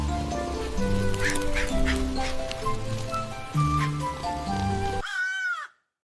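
A person imitates duck quacks over a busy, noisy background, ending in a rising, warbling call before sudden silence.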